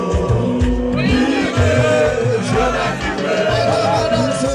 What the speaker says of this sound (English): the atmosphere became festive, with a mammoth crowd celebrating the impending victory of PDP